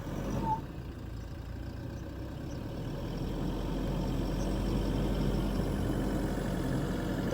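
A Toyota Hilux engine runs steadily while the pickup sits stuck off-road, a low rumbling drone that grows a little louder and rougher over several seconds, heard without talk.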